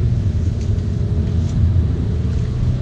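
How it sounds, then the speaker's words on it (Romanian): Inside a moving VW Polo R-Line, a low, steady engine drone and road rumble hold at a modest level with no talking. "Vedeți, motorul nu se aude foarte tare."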